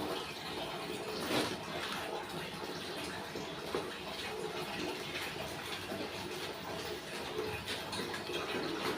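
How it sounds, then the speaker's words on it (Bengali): Clothes are washed by hand in water, producing continuous close splashing and swishing with small louder sloshes, steady throughout and with no voices. "কাপড় ধুয়ে নেই, কাপড়গুলো না ধুলে"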